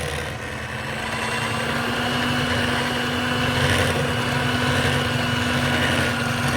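An electric mixer whisking a split mayonnaise to rescue it makes a continuous motor whir that swells slightly louder as it runs, steady and close with no talking.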